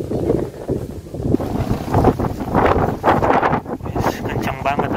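Strong, gusty wind buffets the microphone at an open strawberry farm, making a loud, rough rumble that surges and eases across the whole stretch.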